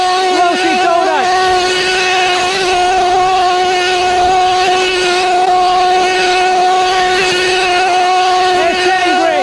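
A Team Losi 8IGHT RC truggy with an upgraded Force 32 nitro engine screams loudly and continuously while spinning a donut, its high whine rising and falling as it revs, with someone speaking nearby.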